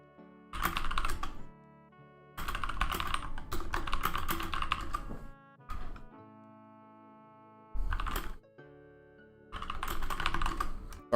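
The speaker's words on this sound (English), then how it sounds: "Sorry if you can hear me typing." Typing on a computer keyboard in bursts of rapid clicking separated by short pauses, close and clear with no talk over it.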